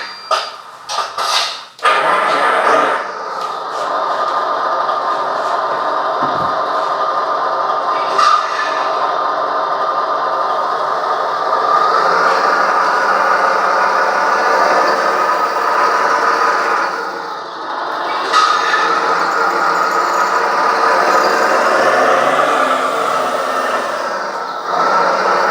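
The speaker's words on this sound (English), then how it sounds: "And now let's turn on the engine." An RC dump truck's sound module plays a steady mechanical engine drone continuously after a brief startup burst, holding a fairly loud, even level throughout with slight fluctuations.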